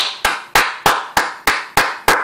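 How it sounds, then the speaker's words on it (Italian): A single person claps slowly and deliberately, giving seven sharp, evenly spaced hand claps close to the listener. The claps ring out clearly over a faint background. "E questo è il mio applauso per voi."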